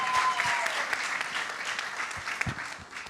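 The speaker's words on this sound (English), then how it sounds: "round of applause?" A crowd applauds panelists at a campaign launch event, with steady clapping held at moderate level and a few sharper claps standing out.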